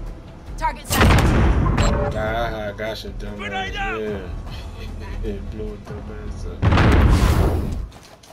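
Grenade blast in a first-person shooter video game, a loud booming burst at the start and another near the end, with players talking over the game sounds between them.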